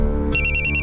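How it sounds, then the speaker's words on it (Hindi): A phone ringtone begins abruptly, a bright repeating electronic tone sounding loud and close after a brief low hum, with no one speaking. "खान सर का फोन"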